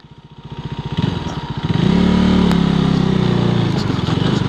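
A motorcycle engine runs close by while the bike is moved into a roadside parking spot near a temple in Sikkim, its steady throbbing idle swelling in the middle and holding loud to the end, with a brief voice near the start.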